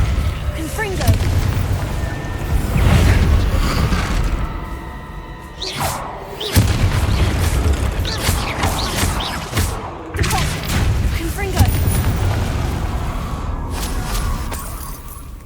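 Fiery spell explosions burst in the Hogwarts Legacy video game, with loud booms, whooshes and crackling impacts in rapid succession, mixed with shouted spell incantations.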